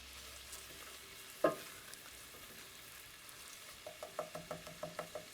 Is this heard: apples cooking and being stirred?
yes